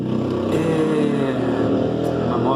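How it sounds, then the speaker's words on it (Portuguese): A motorcycle passes along the street outside an open house, its steady engine drone filling the whole stretch at moderate loudness with no break. "uma moto aqui na rua, né?"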